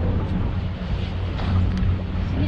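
Strong sea wind buffets the microphone while fishing from a boat on the ocean during a windstorm, a loud continuous low roar with gusty rumble and no talking.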